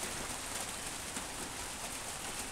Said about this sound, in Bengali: বৃষ্টি হয়েছে, বৃষ্টি হয়েছে, বৃষ্টি হয়েছে,